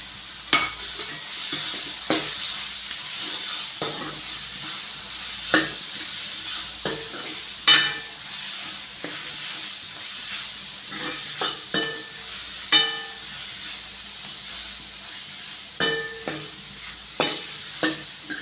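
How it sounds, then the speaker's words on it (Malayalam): Onions and chicken masala sizzle steadily in a pan while a spoon stirs them, leaving regular scraping clicks over the continuous frying hiss, with no talking. "സവാളയുടെ പച്ചമണം മാറുന്നവരേക്കും ഇതിങ്ങനെ അടപ്പത്ത് വെച്ച് ഇങ്ങനെ ഇളക്കിക്കൊണ്ടിരിക്കണം."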